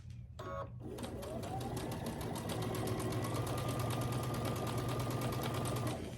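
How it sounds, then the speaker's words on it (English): A sewing machine stitches a quarter-inch seam along the short side of quilt triangle pieces for a scrappy star quilt, running as a fast steady mechanical whir after a brief start, close and alone. "I'll stitch that 1/4 inch on the small side of the triangle again"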